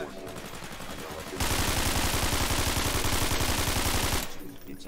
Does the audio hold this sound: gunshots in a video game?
yes